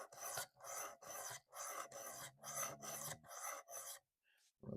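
A knife edge is drawn along a 600 grit rod on a Work Sharp Precision Adjust Elite sharpener, giving steady rhythmic raspy strokes, about eight in a row, close and clear, ending in near silence.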